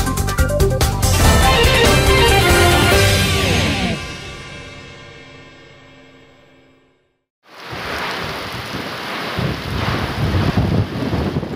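Whirlwind storm tearing through a village settlement in Tanggamus, recorded on a phone: loud roaring wind and rain buffet the microphone, fading away before a sudden return of heavy rushing noise.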